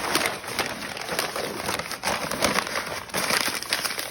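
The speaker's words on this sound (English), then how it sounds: "I'm actually just gonna crumple it." Paper, either newspaper or large sheets, being crumpled by hand into a long snake shape rather than a ball for a solar oven build, giving a steady close crinkling and crackling that runs throughout without talk.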